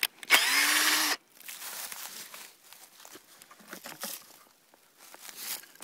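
A power drill bores a tap hole into a maple tree outdoors, one short loud whirring burst at the start, followed by quieter handling and rustling sounds.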